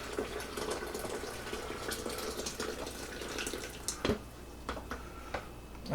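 Iced tea pours, splashing and trickling steadily into a pitcher, with a few clinks and knocks near the end.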